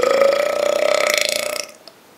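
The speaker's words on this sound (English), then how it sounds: "I want to see some burps." One long, loud burp rattles on for about a second and a half before cutting off, followed by a short quiet tail.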